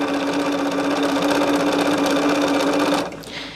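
A sewing machine stitches at a steady, fast whirring pace for about three seconds, close and loud, then slows and stops, with no voices.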